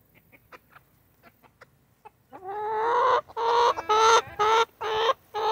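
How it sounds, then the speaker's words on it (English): Chickens clucking loudly and continuously, nearby, after a few quieter scattered clucks and pecking sounds at the start. "Oh, Daddy's really making a lot of noise."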